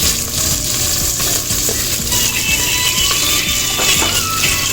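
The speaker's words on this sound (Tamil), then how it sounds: "இப்போது வெங்காயம் 2 கட் பண்ணி வச்சுட்டு அதையும் சேர்த்துருவோம்." Chopped onions sautéing in oil for a prawn gravy, a loud close sizzle with steady scraping and stirring strokes throughout, no voices.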